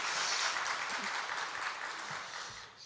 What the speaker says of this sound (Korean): 박수 한번 할까요?